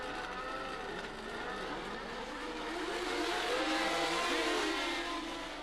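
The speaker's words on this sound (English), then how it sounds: "As the cars dashed towards Crowthorne Bend, Scheckter managed to split the two Brabhams" 1975 Formula 1 race cars accelerate past in a sustained high engine whine, several cars overlapping with rising and bending pitch as they swell louder mid-way, with no voices.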